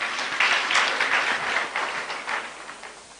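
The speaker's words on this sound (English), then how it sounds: "I thought you would clap on that." An audience at an academic careers fair and exhibition breaks into brief applause, a dense patter of clapping that swells and then tapers off after a few seconds.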